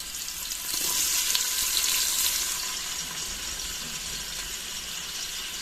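Onions for chicken biryani sizzle and fry steadily in a hot pan, a close, even hiss that swells slightly early on and then holds.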